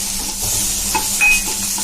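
A medium tomato fries with onion in a pan, giving a loud, steady sizzle with a faint utensil tap, close and brief.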